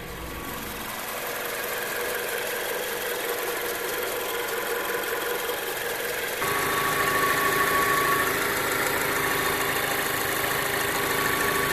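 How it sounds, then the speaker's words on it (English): A 2013 Mazda 3 2.0L car engine idling nearby, a steady mechanical hum with light ticking that grows a bit louder and brighter partway through. "Guys, so we got her idling. I want you to hear what she sounds like before and after."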